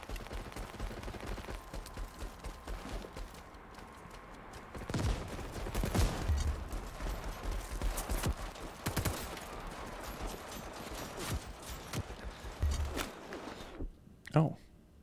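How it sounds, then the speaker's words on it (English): Gunfire erupts from a tank and other weapons in the video game World War 3, scattered sharp bursts and cracks at moderate distance over background rumble, with a player speaking between the shots. "I thought the tank was shooting me."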